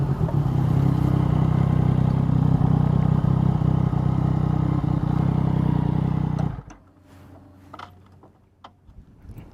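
Yamaha MT-09 motorcycle engine running loudly and steadily at close range, then cutting off abruptly as the bike pulls over and stops, leaving quiet surroundings with faint noises.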